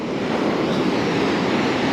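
Gulf surf rolls in at Panama City Beach, Florida, as a continuous loud wash of breaking waves mixed with wind rumble on the microphone, with no talking.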